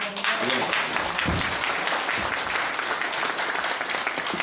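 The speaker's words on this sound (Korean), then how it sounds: "박수 한번 보내주시기" An assembly audience at an anniversary general meeting of a veterans' association claps together, a dense, steady round of applause that fills the hall for several seconds and stays loud throughout.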